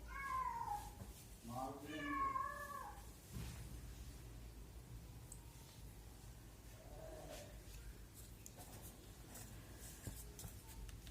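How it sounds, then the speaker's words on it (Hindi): Cats meow close by indoors: a few clear, drawn-out meows in the first seconds, then a softer one a little later, over a faint hum of room noise. "बीच में बिल्लियां भी आ जाती हैं।"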